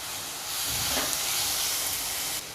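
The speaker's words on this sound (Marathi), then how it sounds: "थोडीशी हळद घालून घ्यायची आणि व्यवस्थित असं परतून घ्यायचं" Turmeric and spices sauté in a pan with a steady, close hiss that swells slightly midway and cuts off near the end, heard alone without talk.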